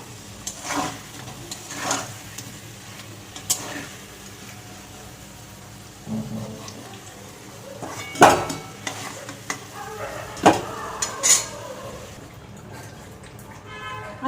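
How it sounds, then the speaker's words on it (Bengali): Potatoes sizzle in hot oil in a pan while being stirred, a soft frying hiss broken by a few sharp scraping clatters of the spoon against the pan. "আলু ভাজা হয়ে গেছে এবার তুলে নেবো"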